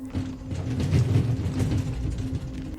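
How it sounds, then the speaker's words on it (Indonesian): Rattling and clicking come from inside a refrigerator, a mechanical ratchet-like chatter over a steady low hum, irregular and close. "suara gemeretak terdengar dari dalam kulkas"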